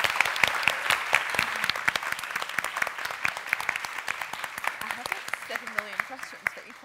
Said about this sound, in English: cheer please again for Gio and Kim.